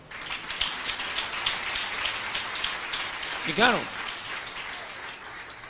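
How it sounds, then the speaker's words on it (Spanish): A church congregation applauds in praise at a preacher's call, broad steady clapping filling the whole clip with a brief spoken phrase and a short vocal exclamation rising over it. "Fuerte aplauso al Señor."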